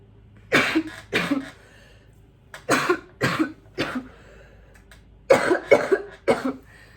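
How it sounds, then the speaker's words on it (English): A series of sharp coughs in clusters, two, then three, then two, each burst short and harsh, fairly close with quiet gaps between. "God bless the cough."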